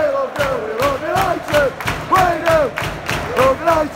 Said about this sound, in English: Clap for them, boys, clap for them.